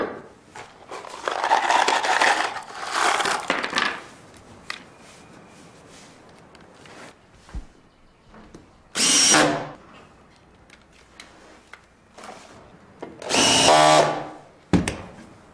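A power drill drives a SPAX screw into a wooden pillar, with several bursts of motor whine and grinding separated by pauses, the wood fibres cracking as the thread bites, loud and close with no talking.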